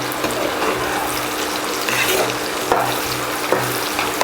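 Sliced onions frying in a pan for chicken dum biryani, a dense continuous sizzle with occasional stirring clatters, loud and close, no talking.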